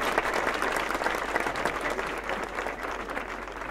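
A crowd at a public handover of a bridge and over 100 houses in Santa Rosa gives a strong round of applause for local authorities, dense and sustained at an even, loud level throughout.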